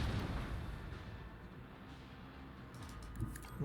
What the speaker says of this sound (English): Starboard guns, you may fire at will. And dorsal guns kindly punish him.